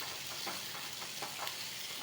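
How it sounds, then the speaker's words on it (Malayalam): Two tomatoes sautéing in a pan for a tomato chutney, a soft, steady sizzle and crackle of frying with faint stirring scrapes, fairly quiet and without talk. "ഇത് 2 തക്കാളിയും ഇട്ടിട്ട് വഴറ്റിയെടുക്കുക"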